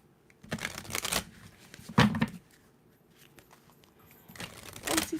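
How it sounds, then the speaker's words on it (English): Tarot cards being shuffled in several short bursts of riffling and flapping, close up, separated by brief pauses, with no voices. "Couple shuffles in for Pisces."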